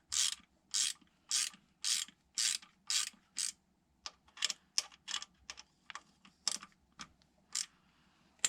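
A ratchet loosening Torx T30 screws on the water pump of a BMW K100 motorcycle: a series of sharp, rapid clicking bursts, regular at first, then shorter and more irregular, close and fairly quiet.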